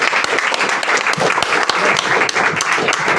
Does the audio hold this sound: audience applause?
yes